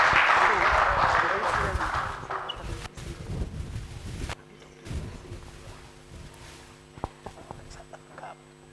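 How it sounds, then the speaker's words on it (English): A burst of audience clapping for someone speaker at a survey report launch event, loud at first and fading within a few seconds into quieter room noise and scattered sounds, with a voice speaking over it. "Can we just clap for this lady?"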